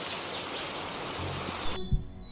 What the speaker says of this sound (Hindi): और तभी बारिश होने लगती है